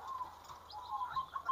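Faint, soft cooing of a female zebra dove, gentle repeated notes at low volume against a quiet background.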